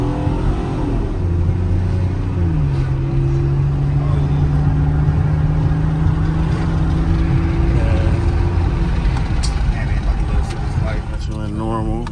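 A 2010 Chevrolet Camaro with a 3.6-litre V6 in sport mode gives a normal throttle response: the engine drone climbs in pitch, then holds a steady hum under nearby talking inside the car.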